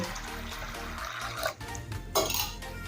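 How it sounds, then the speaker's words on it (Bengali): Large sago pearls, about one cup, being washed in water in a bowl, with continuous sloshing, stirring and clinking against the dish, close and fairly loud, with no voice. "এখন জল দিয়ে সাবুটা ভালোভাবে ধুয়ে নেব।"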